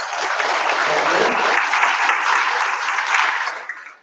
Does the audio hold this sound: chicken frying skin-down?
no